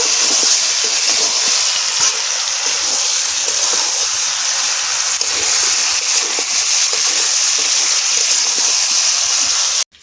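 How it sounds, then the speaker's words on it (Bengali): Mutton and potatoes stir-fry in a pan, giving a steady, loud hissing sizzle with faint scraping under it that holds evenly for about ten seconds before cutting off abruptly. "আলুর সাথে খাসির মাংস ভালো করে কষাই করে নেব।"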